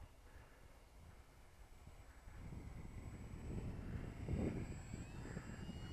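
Radio control aeroplane gliding with its throttle closed, a soft whooshing drone of wind and airflow rising gradually with a thin high whine, no speech, slightly louder toward the end.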